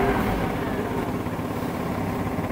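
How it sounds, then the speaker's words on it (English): Porsche Boxster with a blown exhaust running steadily, a continuous rough, rumbling drone with a breathy, raspy edge, close and fairly loud without pause. "a sort of blown sound from the exhaust"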